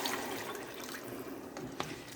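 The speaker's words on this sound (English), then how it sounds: "So you're going to add 2 cups of hot water" Hot water pours steadily into a pot for a couple of seconds while making holiday side dishes, a soft continuous wash of liquid with a faint splash near the end and no talking.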